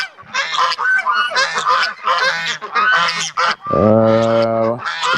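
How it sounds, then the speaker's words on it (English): Geese honk loudly and repeatedly up close, a noisy flurry of overlapping calls ending in one long, drawn-out honk. "we got 4 geese, Kevin, Grace Jones,"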